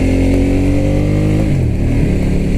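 A 2016 Ducati X Diavel S cruiser cruises up a steep hill. Its engine holds a loud, steady, close droning note that dips in pitch midway, and no one speaks.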